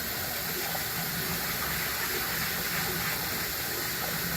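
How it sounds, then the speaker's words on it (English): Cold tap water runs steadily at a kitchen sink, splashing over rice held in a strainer for rinsing; a continuous, close, even gush with no talking. "I'm going to come over to the sink and wash it. I'm just going to use cold water"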